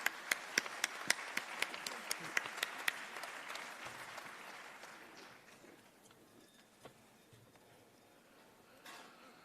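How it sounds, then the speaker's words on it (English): Audience applause at a CEPS Ideas Lab debate, with sharp individual hand claps standing out over the start, then the clapping thins and fades into room murmur. "please join me again in an applause for Franz Timmermans"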